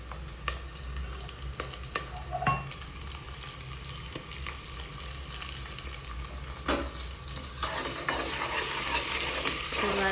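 Ginger, garlic and green chili sauté in a pan with a steady, moderate sizzle. Occasional utensil clicks come through, and the sizzle grows a little louder and brighter toward the end. No one speaks.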